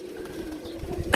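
A sturdy domestic pigeon gives a short, soft, low coo, close by and alone against faint background noise.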